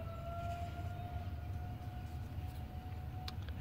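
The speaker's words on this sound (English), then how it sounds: "Pardon the sirens." A distant siren wails faintly in the background, a thin sustained tone drifting slightly in pitch over a low rumbling backdrop, quiet and far off.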